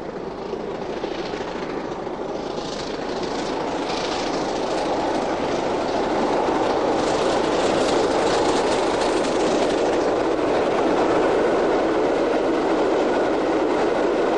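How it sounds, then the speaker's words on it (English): A British Railways steam locomotive working hard on the southbound climb of the Settle and Carlisle line, a loud, steady rolling roar with rail clatter that builds and holds throughout, with no voices. "the locomotive broke the all-time record for the southbound climb on the long drag, as the Settle and Carlisle is known"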